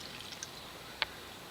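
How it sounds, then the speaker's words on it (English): A single faint drip of filtered water lands once, briefly, into a drinking jug against a quiet background hiss. "It filters through and drips down into the drinking jug."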